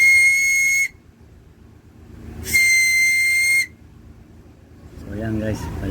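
A homemade whistle made from a soft drink bottle cap, blown in two loud, shrill, steady blasts of about a second each with quiet gaps between them, then a voice speaks briefly at the end.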